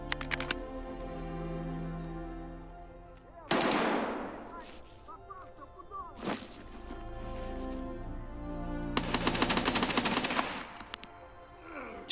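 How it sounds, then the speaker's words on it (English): Automatic gunfire in Escape from Tarkov, with bursts of rapid shots, a sharp single crack, and a longer rattling volley near the end over a steady game background hum, loud and close. "Just beforehand, we heard some shots"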